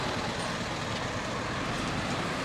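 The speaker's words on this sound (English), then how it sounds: "These are bigger buses." Buses idle at a bus station, making a steady broadband engine rumble and traffic wash that holds level throughout with no pauses.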